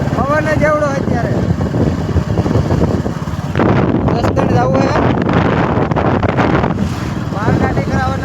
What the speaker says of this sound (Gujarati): પવન જ એવડો અત્યારે.